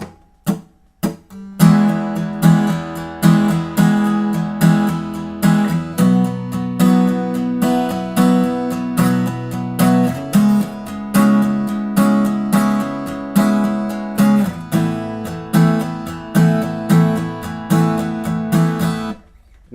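An acoustic guitar strums the chorus of a song in a steady, driving pattern of full chords with regular accents, loud and close with no voice.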